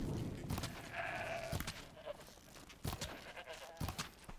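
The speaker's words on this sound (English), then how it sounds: "Give me that sheep." A sheep in the video game Horizon Zero Dawn bleats a couple of times at low volume, with soft game ambience and scattered footstep-like thumps around it.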